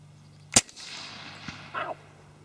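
A suppressed HK Mark 23 pistol fires a 230 grain Underwood round with a Silencerco Osprey 45 suppressor, one sharp muffled crack followed by a fainter thud and a short metallic clink, close by.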